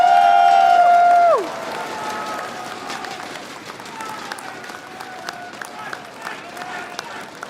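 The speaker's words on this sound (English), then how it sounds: "Can we get a round of applause for our first place champion" Audience applause and cheering at a card game festival in Los Angeles for the first-place champion, a broad crowd wash of clapping that continues after a loud tone fades out early.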